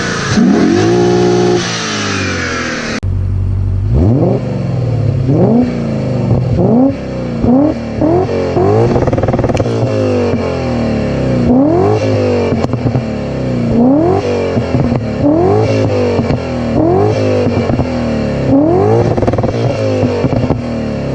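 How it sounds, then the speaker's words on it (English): A 1995 BMW E34 530i with a supercharged engine revved hard about a dozen times in close succession, each rev climbing and falling back to idle, loud and close with no talking. "let me actually rev it for you so you can hear how it sounds"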